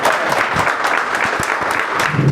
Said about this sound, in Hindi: तो एक ताली बनती है दोस्तों इस कंपनी की।